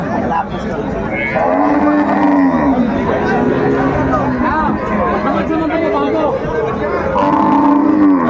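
Cattle at a busy livestock market, a cow with her calf among them, give drawn-out lowing moos over a steady crowd chatter, with loud, close voices throughout.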